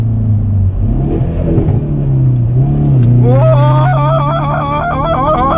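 A 2019 Hyundai Veloster N turbo hums at steady cruise, then a downshift brings a sharp rev-matched blip and rising, crackling engine note, loud and close inside the cabin, with a brief excited exclamation from a driver.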